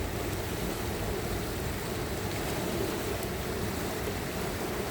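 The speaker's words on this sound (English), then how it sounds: "I love sitting here and watching this water, listening to it." Flowing stream water forming whirlpools, a dense, constant rushing wash heard up close and unbroken throughout.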